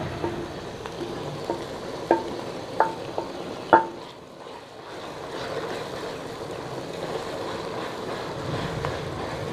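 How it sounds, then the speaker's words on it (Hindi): A spoon stirs aloo matar masala in a pan: a few sharp clinks against the pot over a soft, steady sizzle of cooking spices in ghee, close and fairly quiet. "चम्मच इस तरह हिलाते जाएंगे"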